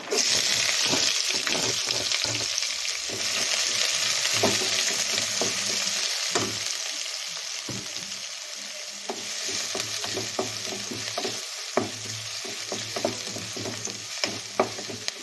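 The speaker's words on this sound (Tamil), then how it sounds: "நல்லா கடுகு பொரிஞ்சிட்டு இருக்கு" Mustard seeds crackle and pop in hot oil while curry leaves go in, a steady close sizzle broken by sharp spluttering bursts and occasional stirring, with no voices.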